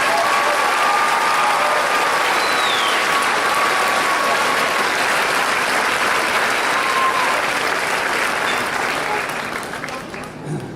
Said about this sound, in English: Let's give our honor students a round of applause.